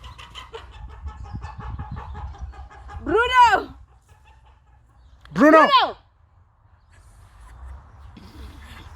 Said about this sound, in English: That's Bruno trying to eat someone's chicken. And then that's another chicken that's running